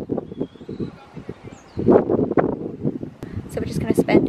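Gusty wind buffets the microphone in a waterside park in Naha, Okinawa, rumbling in low bursts that swell louder midway, with people talking over it throughout.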